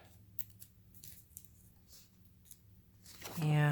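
Scissors trim the edge of a journal page in a few quiet, soft snips, ending with a louder burst of sound as a voice starts speaking.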